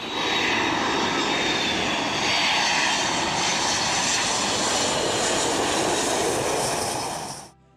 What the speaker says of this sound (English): a plane would need to fly in at an incredibly low altitude